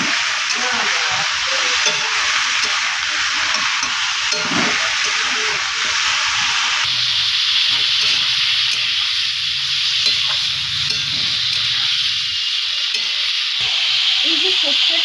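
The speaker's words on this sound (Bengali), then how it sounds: "ভালো করে নেড়ে চেড়ে দিচ্ছি।" Papaya shukto frying in a pan with salt added, a loud continuous sizzle and hiss close by, with faint occasional scrapes of stirring underneath.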